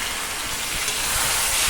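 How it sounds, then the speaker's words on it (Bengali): Marinated chicken hits a hot kadai with a broad, steady sizzle, loud and close, that swells slightly toward the end. "এখন সমস্ত মুরগির মাংসটা আমি কড়াইয়ের মধ্যে দিয়ে দিলাম।"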